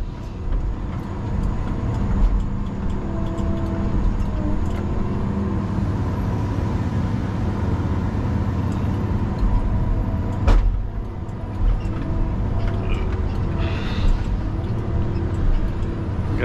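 A Tigercat LS855E forestry machine rumbles steadily as it drives back down a hill through cut timber, a continuous low engine drone with occasional knocks and creaks, fairly close and with no talk.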